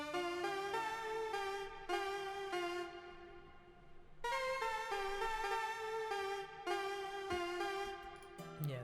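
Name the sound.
synth lead melody, 40B40 lead from 40's Very Own Keys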